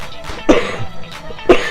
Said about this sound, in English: If you'll excuse me a minute, I got a cough.